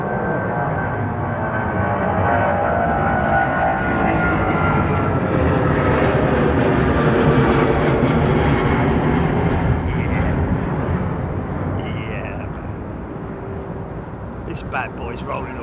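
Cathay Pacific Boeing 747 freighter rolling for takeoff at London Heathrow at sunset, a loud sustained jet engine roar that stays steady, then eases slightly toward the end, with a few faint voices over it.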